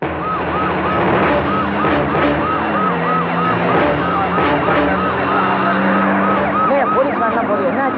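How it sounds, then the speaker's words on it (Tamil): Police jeep and van sirens wail loudly and continuously as the vehicles pass close by, with a low engine drone underneath. "என்னப்பா வாசு, போலீஸ் ஜீப் வேன்லாம் போயிட்டு இருக்கு."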